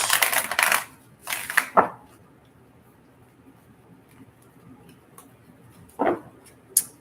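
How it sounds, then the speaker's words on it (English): Short bursts of crisp, riffling tarot card shuffles, a few quick flurries separated by quiet pauses, close to the listener. "I'm just going to get a couple shuffles."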